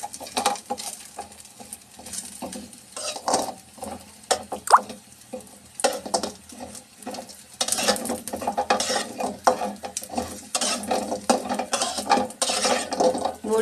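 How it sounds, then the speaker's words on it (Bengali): Pumpkin lentil dumplings (kumro bori) fry in oil while being stirred in a pan, with continuous close scraping, rattling and tumbling that grows denser and busier in the second half, with no talk. "ভালো করে নেড়ে চেড়ে বড়িটা ভালো করে ভেজে নেব।"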